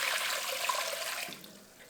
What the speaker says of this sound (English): Now we're gonna add in about 4 cups of water